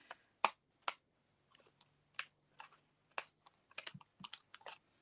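Scissors snip through excess paper trimmed around an inlaid embossed papercraft piece, giving a series of crisp, close, irregular cuts and clicks with short quiet gaps between them.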